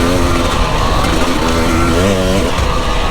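An enduro motorcycle brakes and skids on a dirt trail. The engine roars close and loud while the tyres scrub, and the engine pitch drops and rises throughout.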